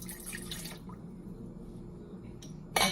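A cup of water being measured out for teriyaki sauce in a home kitchen, with a brief run of pouring and splashing at the start, then quiet drips and a sudden clatter at the end.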